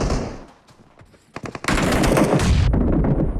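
A loud, sustained burst of rapid automatic fire from the ACE rifle in PUBG Mobile, preceded by a few sharper single cracks and quieter moments.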